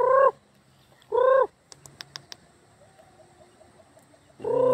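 Chicken calls nearby: three short, loud bursts of harmonic clucking spaced across a few seconds, with faint clicks and quiet outdoor background between them.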